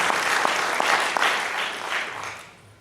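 Audience applause at a high school hall of fame ceremony in a hall, steady dense clapping that holds for over two seconds before tapering off.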